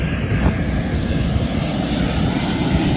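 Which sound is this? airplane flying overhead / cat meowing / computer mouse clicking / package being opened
airplane flying overhead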